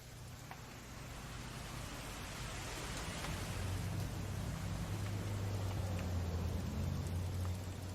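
Steady rain falls in the video game What Remains of Edith Finch, a dense, even hiss that swells slightly and continues without a break, with a low rumble underneath and no voices.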